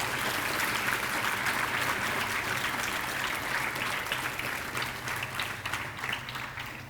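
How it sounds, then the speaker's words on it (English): Steady, sustained audience applause at a school investiture ceremony honoring newly elected student council leaders, dense clapping filling the room at an even level throughout. "So let us all give a huge round of applause to our newly elected members of Student"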